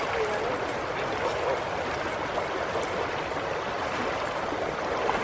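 A mountain river near Jasper Lake in the Beartooth Wilderness rushes steadily and close by, a continuous broadband wash of flowing water with no breaks.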